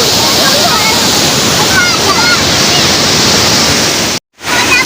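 Loud, steady rushing water roars close by like a waterfall, continuous throughout before cutting out for a moment near the end.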